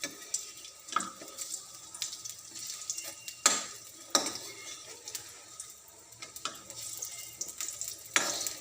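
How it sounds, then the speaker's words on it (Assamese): Food frying in a pan over raised heat, with steady sizzle and repeated clinks and scrapes of stirring against the pan, close and moderately loud. "আৰু এনেকৈ মই ৰঙচুৱা হোৱালৈকে ইয়াক ভাজি ল'ম।"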